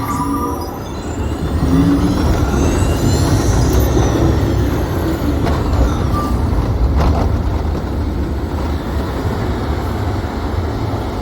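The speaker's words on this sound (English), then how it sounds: "Commencing SIM car off-road and extreme weather sequence" A Disney Test Track SIM car on its off-road and extreme weather ride: a heavy, continuous rumble and rattle of the ride vehicle, with hissing and clanking effects layered on top and no talking.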